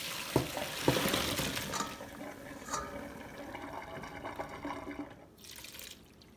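Boiled chickpeas being strained in a kitchen: a steady wash of draining water with a few sharp clinks near the start, fading to a softer trickle toward the end.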